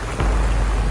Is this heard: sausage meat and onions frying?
no